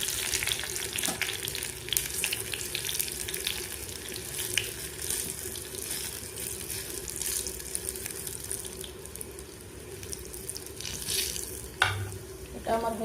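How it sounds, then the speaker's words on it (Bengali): Garlic, curry leaves and dried chillies frying in hot oil for a dal tadka, giving a steady, dense sizzle and crackle that runs continuously throughout, with a brief louder spatter near the end. "তারপর দিয়ে দিলাম কড়ি পাতি আর শুকনো লঙ্কা।"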